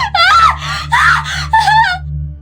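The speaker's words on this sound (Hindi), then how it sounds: "डर के मारे एक बार फिर चीख निकल गई।" A woman lets out a series of frightened, wailing screams and cries in a horror story scene, loud and close, with a low background drone.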